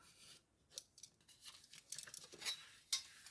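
Scissors cut paper for an art book pocket, giving a series of crisp snips and rustles in an uneven rhythm, close and quiet with no talk.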